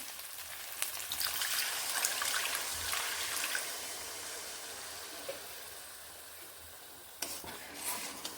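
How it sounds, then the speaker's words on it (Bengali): Water poured into a spiced striped dwarf catfish curry sets off a bright hissing rush over the hot masala. It stays loud for a few seconds, then eases into a quieter simmer with a brief splash near the end. "এইবার এখানে আমি জল অ্যাড করছি"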